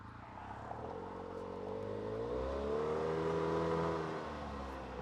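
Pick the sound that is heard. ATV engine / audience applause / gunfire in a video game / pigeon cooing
ATV engine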